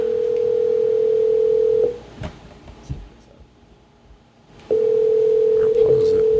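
A phone call rings out while waiting for someone to pick up: a loud, steady electronic ringback tone sounds for about two seconds, goes quiet for a few seconds, then resumes.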